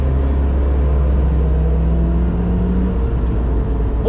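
A Radford Type 62-2 lapping the Hethel circuit gives a loud, steady engine drone heard from inside, with a low rumble and sustained tones that shift slightly as it holds speed.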